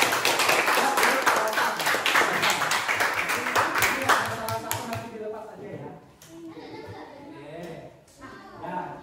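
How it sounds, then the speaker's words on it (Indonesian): A group of children in a classroom activity claps loudly and rapidly together for about five seconds before the clapping fades out and children's voices chatter and talk nearby. "Oke, tepuk tangan dulu nomor 1."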